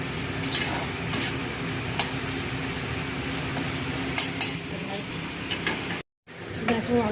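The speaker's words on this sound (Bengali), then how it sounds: "উচ্ছেটা একটু ভালো করে ভেজে নিলে পরে ডালটা টেস্ট হয় ভালো।" Thick-cut bitter gourd is stir-fried in a pan, a constant close sizzle broken by spatula scrapes and light metallic clinks, with a brief gap near the end.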